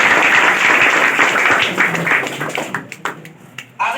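An audience at a Class 10 student prize distribution applauds the students, dense clapping that thins into scattered individual claps before one final burst.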